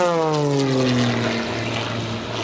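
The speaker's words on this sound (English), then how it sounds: "This airplane rolls at 500 degrees per second." An aerobatic propeller airplane roars loudly overhead at an airshow, its engine pitch sweeping downward as it passes close by, then settling into a steady drone.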